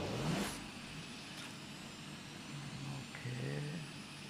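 A race car engine in the Asphalt 9 racing video game, a faint, steady engine drone with quick whooshes and a short rising tone, playing alone at low level.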